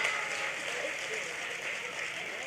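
An audience at a comedy show claps in a steady, moderately loud burst of applause that fills the whole moment, with voices mixed in.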